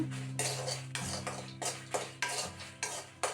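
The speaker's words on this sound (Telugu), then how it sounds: "ఎండు కొబ్బరి తరిగి పెట్టుకున్నాం కదా వాటిని కూడా వేస్తున్నాను లైట్గా ఫ్రై అయితే సరిపోతుందండి" Chopped dry coconut is lightly fried and stirred in a pan, with a spoon scraping and clinking against the metal in a regular rhythm of about eight strokes over a soft, quiet sizzle.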